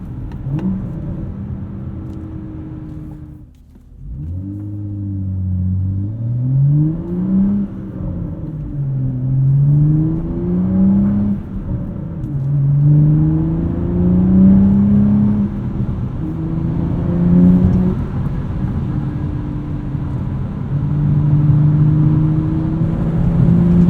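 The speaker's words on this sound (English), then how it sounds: "I could listen to this inline six all day long." Inline-six engine of a modified 2016 BMW 435i with six-speed manual pulls steadily while driving, the loud tone climbing through repeated gear changes with a brief dip between shifts, heard from inside the cabin with no talk.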